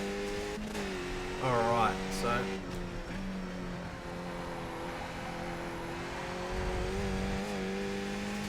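A Skip Barber race car engine in the iRacing video game drones steadily with shifting pitch and a brief rev near the start, while someone talks briefly over it.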